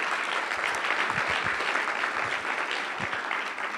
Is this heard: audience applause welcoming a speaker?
yes